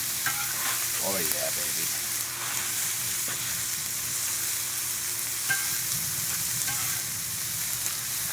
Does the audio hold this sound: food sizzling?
yes